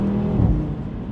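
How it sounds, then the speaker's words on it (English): Audi RS3 Sportback five-cylinder engine from 2018, a steady, loud, close rumbling drone with a slight swell midway and no pops or bangs. "You really have this really nice engine noise"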